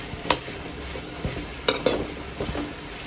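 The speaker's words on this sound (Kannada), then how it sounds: "ಈಗ ಇದಕ್ಕೆ ತುಪ್ಪವನ್ನು ಹಾಕ್ಕೊಂಬಿಟ್ಟು ಹುರ್ಕೋಬೇಕು ಚೆನ್ನಾಗಿ." Grated elephant foot yam is stirred and fried in ghee in a pan, with soft sizzling underneath and a few sharp scrapes and clinks of a spoon against the pan.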